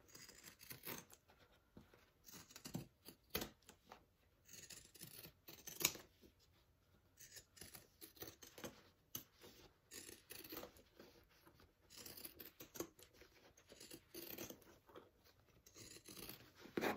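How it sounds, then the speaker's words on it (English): Pinking shears trim fabric lining for a sewing-bag project, giving repeated quiet snipping and rustling cuts at an irregular pace, close and faint with no talking. "I am going to trim the bottom just like I did with the exterior with my pinking shears outside of my stitching"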